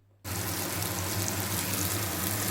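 Moka fish coated in salt, oil and turmeric hit a hot pan with a sudden loud sizzle that holds steady and close, hissing on without a break.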